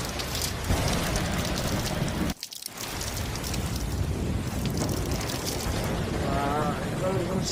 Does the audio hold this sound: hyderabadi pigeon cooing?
no